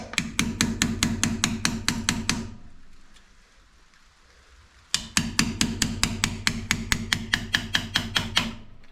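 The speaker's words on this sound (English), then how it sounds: "Got to get out your good old mechanic's chisel. It's not a carpenter's chisel." A mechanic's chisel is hammered into a Ford Bronco rear end part. Rapid, evenly spaced loud metallic strikes come in two long bursts, split by a quiet pause of a couple of seconds.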